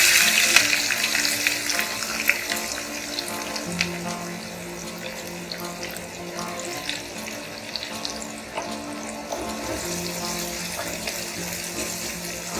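Green chilli and onions fry in a pan with a continuous crackling sizzle, loudest with a burst of spitting at the start as they go in, then settling to a steady hiss with faint clinks.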